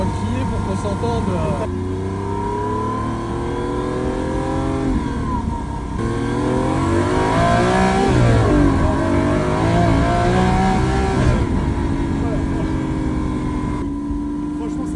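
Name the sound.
Lamborghini Aventador SV engine roaring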